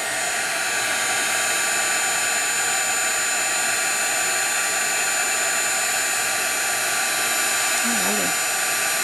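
A heat tool warming plastic on a handmade birthday card gives a loud, steady blowing roar that runs unbroken from start to end, close to the microphone.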